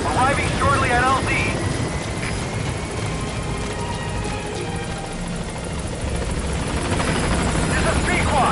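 A helicopter in the video game Metal Gear Solid 5 approaches a landing zone, its rotor chop a loud steady thrum throughout, while radio-style voices speak over it at the start and end.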